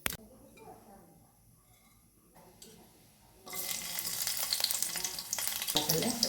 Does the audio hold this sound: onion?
yes